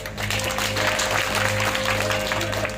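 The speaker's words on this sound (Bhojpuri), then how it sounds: "जोरदार ताली हो हार्दिक हार्दिक स्वागत" A crowd at a Dugola folk singing program claps to welcome singer Vyas Budha Singh, a dense, continuous patter of hands over a low electrical hum.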